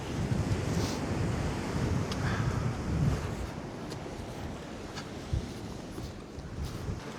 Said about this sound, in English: Way this water's rushing in now